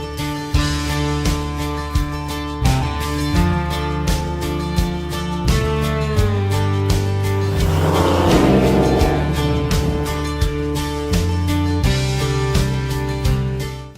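A 1978 Ford F350 crew cab truck with a 351M V8 idles with a rough, rhythmic rumble, rises in a loud rev partway through, then settles back to a throbbing idle before cutting off.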